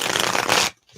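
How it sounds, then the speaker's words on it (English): Tarot cards are shuffled up close, a dense, rapid riffling flutter lasting under a second before cutting off into near silence. "let me shuffle these up here"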